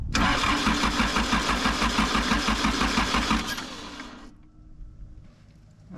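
A diesel engine in an outback Australian workshop at Mt Dare is cranked by its starter with a rapid rhythmic churning for about four seconds, then cuts off to quiet background. It sounds close, without talk.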